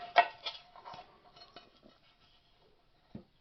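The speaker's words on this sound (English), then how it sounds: "There we have the simple pot stand, windshield" A Primus 71 E cookset's metal pot stand and windshield are handled, giving a quick run of close, bright metallic clinks and rattles at the start. Quieter taps follow, then one last clink.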